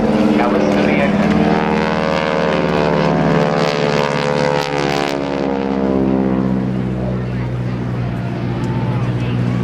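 A single propeller airplane roars overhead at an airshow, its engine loud and steady with a strong droning harmonic tone that slowly shifts pitch as it passes, heard alone without talk.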